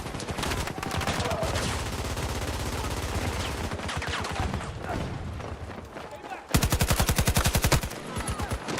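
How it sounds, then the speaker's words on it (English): Sustained automatic gunfire crackles through a chaotic battlefield video game fight against Russian forces, with a dense fusillade throughout and a loud, rhythmic close burst near the end, under shouted player talk. "Russians are attacking one of our objectives. Shooting at me!"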